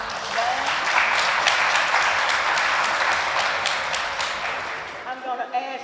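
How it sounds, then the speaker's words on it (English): A room full of people bursts into sustained, dense applause for Caleb at a Black History youth program in Warren County, fading after about five seconds as a voice begins speaking. "we want to give Caleb another hand clap of praise for what he's done."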